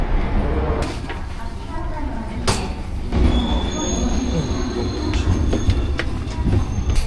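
A train rumbles steadily along the rails from Okayama toward Shikoku, with clattering wheel noise, occasional sharp clanks and a thin high squeal running through the ride.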